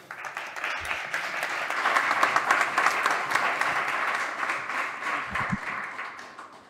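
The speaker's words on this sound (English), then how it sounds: "Big applause." Audience applause welcoming a speaker onto the stage at a startup demo day event, sustained dense clapping from a large room that swells in the middle and tapers slightly toward the end.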